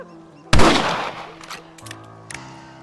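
A single loud rifle shot cracks close by with a booming tail in Red Dead Redemption, followed by a few fainter clicks and quieter reports.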